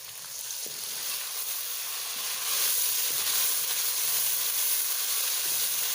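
Tomatoes and green capsicum fry in a hot pan for a chicken and capsicum dish, giving off a dense, even hiss that swells louder about halfway through. Faint stirring knocks sit underneath, with no voices.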